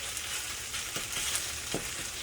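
Rice noodles with shrimp and vegetables sizzle steadily in a hot wok during a stir-fry, with a constant hiss and a few soft scrapes of stirring, and no voices.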